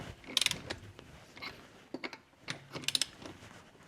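Wheel lug nuts being tightened in stages on a Volkswagen Touareg: several short ratcheting bursts of clicks with pauses between them, close up and fairly quiet, with no talking.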